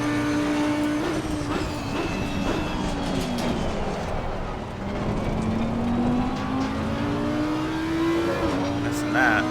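An Audi EVO2 GT3 race car in Assetto Corsa Competizione roars steadily with its engine blipped, the tone dipping and rising as the revs change. A voice talks over the engine.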